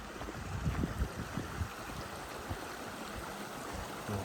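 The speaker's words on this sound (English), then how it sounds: "Nice little creek crossing." A small creek runs over rocks at a trail crossing in a spruce forest, a soft continuous burble and trickle with low gurgles, quiet and steady without voices.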